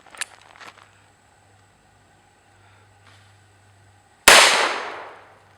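A Taurus Judge revolver fires Federal ammunition: one sharp, loud shot near the end rings out and decays over about a second, after a few faint handling clicks and quiet.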